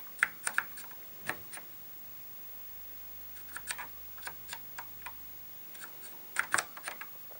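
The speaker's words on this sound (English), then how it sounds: "I'm playing it with the keyboard." Apple IIe keyboard keys tapped while playing the game GadgeTz, clicking in short irregular clusters of sharp strokes with brief pauses between, close and fairly quiet.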